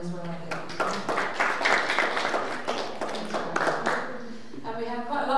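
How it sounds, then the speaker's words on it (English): Applause from a town hall audience on sport and criminal justice, a steady run of many hands clapping at moderate volume that fades toward the end as it winds down. "So round of applause for him as well, I think."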